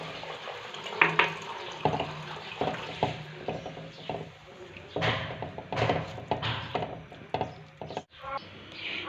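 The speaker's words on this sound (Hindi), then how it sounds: "इसके अंदर मैं शामिल कर दूंगी पानी" Water is poured into a pan of fried masala for a home-style fish curry, a running splashing pour with clinks and bumps of utensils, fairly close and moderately loud, with no talking.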